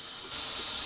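Masala powder sautéing in hot oil, a steady close hiss that swells slightly partway through the short moment, with no voices.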